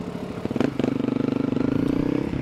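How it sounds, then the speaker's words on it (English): A Honda CRF300 motorcycle engine idles with its idle speed raised to about 1,500 rpm, making a fast, even, pulsing putter. A brief clank comes near the start, and the idle is fairly quiet overall. "we notice that the idle RPM has been raised up a little bit"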